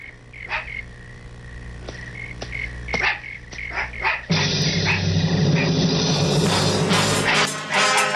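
A dog barks several times in short, sharp bursts at moderate distance over a quiet background in a dubbed cartoon scene, before a busier stretch of music and effects takes over.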